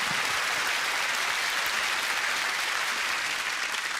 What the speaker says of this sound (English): I think we ought to have a huge round of applause for our judges as they disappear to make their very hard decision.